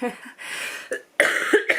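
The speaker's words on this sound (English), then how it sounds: "the cough hasn't gone yet." A few harsh, breathy coughs in quick succession, close by, with brief pauses between them and no talking.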